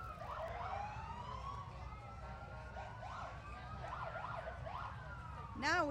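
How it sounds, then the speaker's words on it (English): Police car sirens wail and sweep up and down in the distance at a veterans parade in Kenosha, several overlapping, ending with a sharp, louder chirp. "Now we can hear the sirens."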